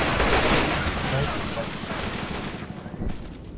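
Sustained gunfire in the video game Left 4 Dead, a loud, dense rattle of rapid shots running through the whole stretch, heavy at first and thinning slightly toward the end.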